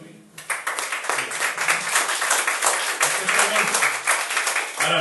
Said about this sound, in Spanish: Demos un aplauso a la Santísima Virgen.